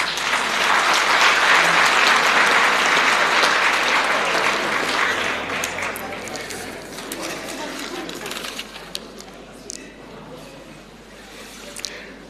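An audience at a school awards function breaks into a big round of applause that swells loud and dense, then thins out over several seconds into scattered claps, with some voices underneath.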